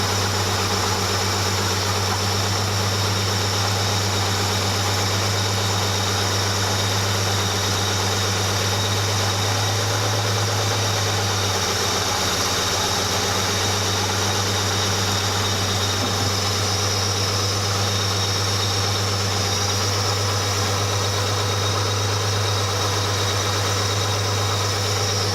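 A 68-year-old truck engine idling with its carburetor idle adjusted, a steady, loud low rumble with a constant drone that holds even from start to finish, with no talk.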